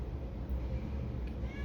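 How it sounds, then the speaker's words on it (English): A needy pet cat meows faintly in the background of a quiet indoor room. A short, soft cry comes near the end over a low steady hum. "I'm sorry if you can hear my cat in the background"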